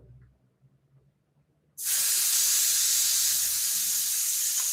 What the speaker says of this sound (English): let's let all the air out and we'll give it a spritz